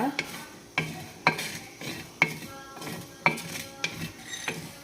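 Fish curry ingredients fry in a pan on low flame while a spoon stirs them, giving sharp metallic clinks and scrapes roughly every half second over a soft sizzle, close and clear with no speech.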